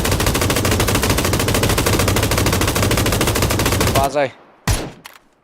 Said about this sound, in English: This is called machine gun.